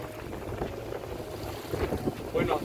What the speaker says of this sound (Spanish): Las olas nos arremeten.